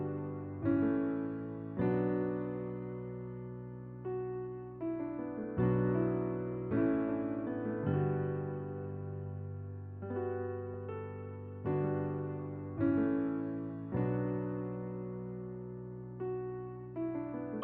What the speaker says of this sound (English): Alright, so first the piano chords, it should sound like this.